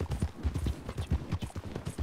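Horse hooves clip-clop in a steady, fairly close rhythm on hard ground in a Western setting, with no voices over them.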